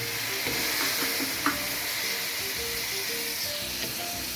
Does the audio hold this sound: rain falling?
no